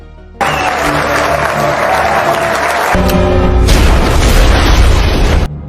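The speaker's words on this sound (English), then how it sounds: "an explosion erupts in the city, the bomb Giovanni had intended to detonate" A bomb blast erupts in a city, a loud sustained roar with a deep low rumble that swells midway into a heavier burst and continues with crackling debris before cutting off.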